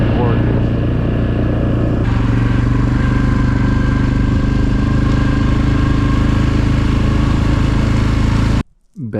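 An ATV engine drones steadily and loudly while riding scenic fall-colored trails near Weber Lake, with a constant rumble and clatter throughout before cutting off abruptly near the end.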